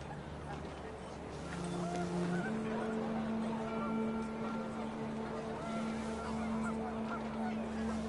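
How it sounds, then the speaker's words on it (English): Panicked geese honk in a windy outdoor scene from the game What Remains of Edith Finch, their calls layered over steady droning tones and a low rumble that swell after the first couple of seconds. "The wind picked up, and panicked geese appeared and quickly went."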